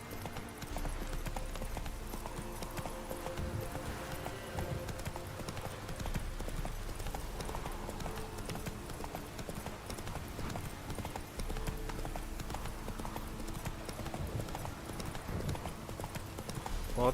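Roach the horse gallops in The Witcher 3: Wild Hunt, hooves clip-clopping in a steady fast rhythm throughout, close and loud over a low ambient rumble of the game world.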